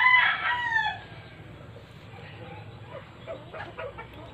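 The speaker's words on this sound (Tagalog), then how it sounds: "Ingin ang mga manok guys, hindi pa ako nagpakain ng manok." A rooster crows loudly at the start, followed by quieter clucking from chickens nearby, with a voice faintly heard in the background.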